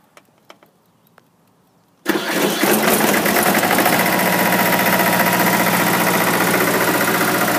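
An Allis Chalmers 920 diesel tractor engine cranks and catches after about two seconds of near silence with a few faint clicks, then settles into a loud, steady, rattling idle that runs to the end.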